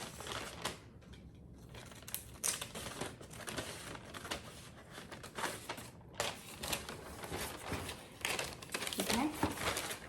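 Scissors snipping and crinkling through a cardboard box while making a Gabby's Dollhouse Easter basket, a run of close crisp cuts and rustles heard under someone talking throughout.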